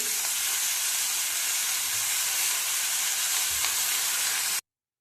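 Coriander leaves sauté in a hot pan for kothimbir vadi, giving a loud, steady hiss of sizzling that runs without a break before cutting off abruptly.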